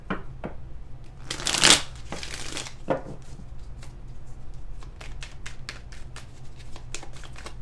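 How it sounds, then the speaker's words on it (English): Tarot clarifier cards are shuffled by hand close up, a brisk riffle burst early followed by a steady run of soft, rhythmic card flicks and slides. "while I shuffle these clarifiers real quick"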